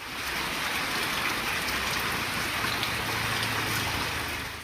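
Heavy monsoon rain pours down in a dense, continuous hiss, steady and loud throughout with no voices, in North Gujarat.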